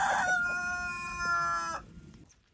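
A rooster in a rural Japanese village in Yasaka, Hamada, crows once, loud and close, then the call cuts off into near quiet.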